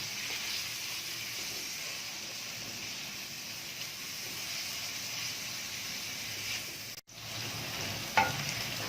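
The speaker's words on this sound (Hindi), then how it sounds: "अब हम सबसे पहले इसके अंदर प्याज ऐड करेंगे" Onions sizzle steadily as they fry in ghee in a pan, a continuous soft hiss with faint stirring clatter and a brief interruption near the end.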